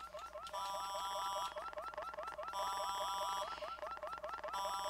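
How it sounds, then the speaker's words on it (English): Repeating electronic alarm beeps for a solar event warning in the Take On Mars game on Mars, a steady pattern of bright tonal chirps in groups, loud and continuous, with a harmonic chime layered on top at intervals. "Let's see what the alarm says."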